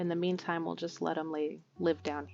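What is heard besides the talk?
No everyday noises stand out.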